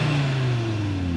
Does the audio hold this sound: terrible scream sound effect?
no